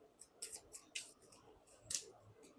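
Several quick, quiet papery flicks and snaps from tarot cards being shuffled, irregularly spaced and close, over a faint background hush.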